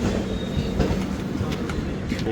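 The Amritsar Express passenger train rumbles and clatters steadily along the rails, wheels clicking rhythmically over a constant low roar, close by.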